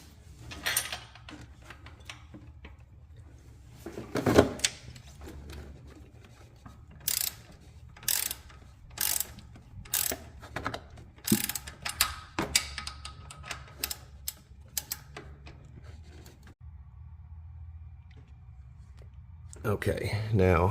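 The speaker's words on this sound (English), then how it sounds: "put a box end wrench on one side, ratchet on the other. It's going to be easier with the ratchet on the outside, and you're just going to tighten it." Ratchet tightening a bolt on the alternator bracket of a Toyota Tacoma/4Runner 3.4 engine: bursts of rapid clicking pawl strokes repeat at close range, separated by brief pauses, with a louder clatter near the start and at the end.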